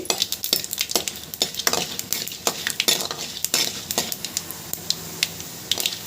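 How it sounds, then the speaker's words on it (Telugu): Chana dal and urad dal fry in a pan, crackling and sizzling loudly up close, with rapid spatula scrapes and clinks against the metal as the lentils are tossed. "ఇవి వేగినాక పచ్చెనపప్పు మినప్పప్పు వేయండి పప్పుల్ని దూరగా వేగనివ్వండి"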